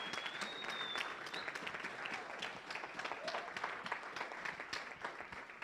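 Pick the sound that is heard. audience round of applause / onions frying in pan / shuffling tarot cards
audience round of applause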